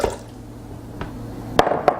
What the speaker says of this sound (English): So I'm going to add a little bit of water so that it can blend